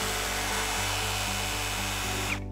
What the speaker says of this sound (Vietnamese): Đây là chức năng khoan thượng nè.